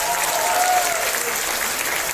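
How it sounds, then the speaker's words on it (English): Dense audience applause fills a hall at a corporate product launch event in Malaysia, loud and sustained with no pauses. "Give yourself the loudest applause ever."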